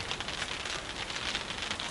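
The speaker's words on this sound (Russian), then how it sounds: "уже начал дождь моросить маленько, мелкий дождь" Steady soft patter of light drizzle falling on a surface outdoors in Yakutia, faint and continuous with no voices.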